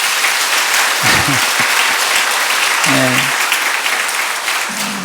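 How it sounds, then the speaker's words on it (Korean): A church congregation applauds loudly and steadily for several seconds, a dense roar of clapping, while someone speaks briefly over it. "박수로 하나 하겠습니다."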